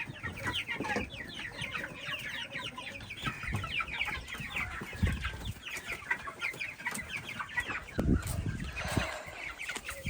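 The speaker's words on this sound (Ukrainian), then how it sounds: "Тут, бачите, загалом майже самі півні." A backyard flock of mostly roosters with some chickens clucks and chatters close by, busy and continuous, with a few louder calls.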